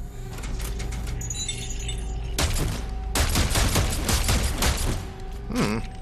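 A nail-gun-like weapon firing in Dead Space 3, with bursts of rapid sharp shots in two volleys over a steady humming game soundtrack, loud and close, followed by a brief metallic rattle.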